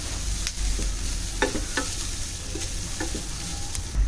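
Fresh grated coconut and ginger roasting in a pan for Malvani vatan, a close, steady sizzle with frequent scraping stirs and light clinks of a spatula.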